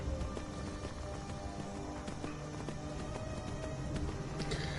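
Horse hooves clip-clop steadily at a trot in Skyrim on PlayStation 4, over a dense, busy game soundscape, with no talking.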